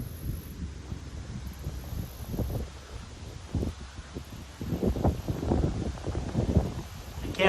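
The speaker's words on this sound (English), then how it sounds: "this wind's picking up even more" Gusty wind in an old Baptist cemetery rumbles against the microphone and rustles nearby, building in strength toward the end; close, fairly loud buffeting with no clear speech.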